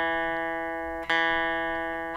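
The open low E octave string pair on a 12-string guitar rings with a bright, shimmering sustained tone, briefly plucked again midway and then left to decay, clear and close with no talking.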